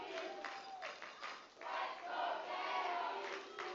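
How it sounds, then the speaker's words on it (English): Spectators at a USPORTS women's rugby national championship match between Ottawa and Queen's cheer and shout for their team, a steady, loud wash of crowd noise with rising swells of voices. "Crowd now starting to get behind their team."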